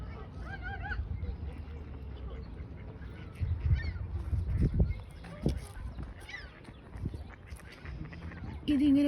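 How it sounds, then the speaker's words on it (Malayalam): Ducks on Lake Ontario give a few honking quacks close by, with water and outdoor ambience around them and a person speaking intermittently. "താറാവുകൾ ഇങ്ങനെ നീരാടിക്കൊണ്ടിരിക്കുന്നു"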